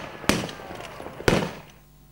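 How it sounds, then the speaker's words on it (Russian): Two sharp gun salute volleys ring out at a war memorial in Rostov's Kumzhenskaya Grove, each a loud crack about a second apart followed by a short echoing decay. "оружейный салют."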